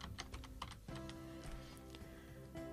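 Quiet, quick keystrokes clatter on a computer keyboard, a short run of light taps entering a word into a Word 365 document, with no talk over them.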